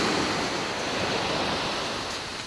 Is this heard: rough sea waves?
yes